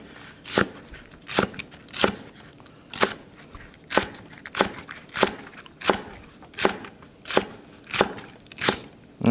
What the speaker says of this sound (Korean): 요렇게 잘라서 그냥 어슷썰기죠.